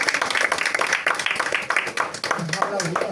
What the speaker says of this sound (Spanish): Sí, se ha aplaudido.